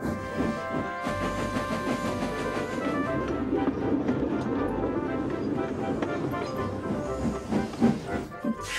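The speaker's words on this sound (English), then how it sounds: "They chuffed gently into the station." Steam hisses steadily under a rhythmic mechanical chugging, like a steam locomotive moving slowly into a station, with low rumble throughout.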